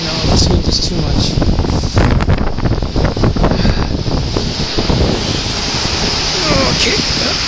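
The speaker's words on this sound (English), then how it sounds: "No, this wind is too much." Strong wind buffets the microphone outdoors at a vigil outside the JCC in Montréal, a loud, continuous roaring rumble that fills the whole stretch, with voices partly audible beneath it.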